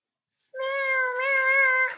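A cat meows inside the Minecraft video game, one clear drawn-out harmonic meow lasting about a second and a half, loud and close, with no talking over it.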